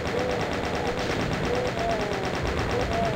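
Chain gun in Voxel Doom 2 fires nonstop in a fast, even burst. Each shot sits close and loud, and faint higher game effects sweep underneath. No one speaks.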